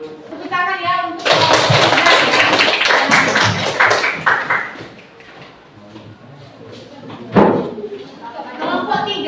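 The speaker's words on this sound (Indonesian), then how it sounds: "Tepuk tangan ya untuk" A classroom of students claps together in a burst of applause that fades after a few seconds, with children's voices and chatter around it.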